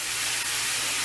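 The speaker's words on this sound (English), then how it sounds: "Here it's searing." Taco meat sears in a hot pan, giving off a loud, steady hiss that holds evenly throughout the brief moment.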